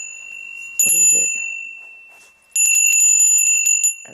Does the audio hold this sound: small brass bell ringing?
yes